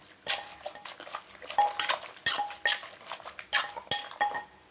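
Shrimp papaya salad being mixed in a bowl, with a utensil clinking and scraping against the bowl in a steady irregular rhythm of short knocks, close up with no talking.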